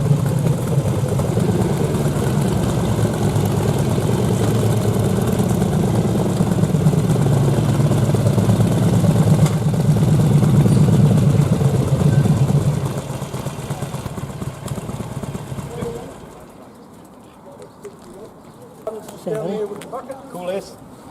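A Harley motorcycle rides in at a bike expo, its engine giving a loud, steady low rumble for about twelve seconds before easing off and fading, while people talk nearby.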